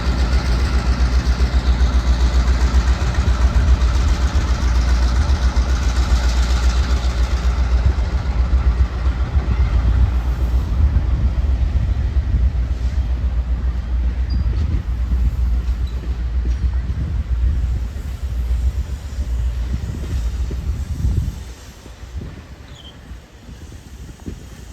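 A tourist excursion train led by locomotive 4617 rumbles past with a loud, steady low engine drone and rolling noise that slowly eases before dropping off near the end.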